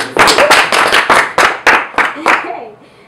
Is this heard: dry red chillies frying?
no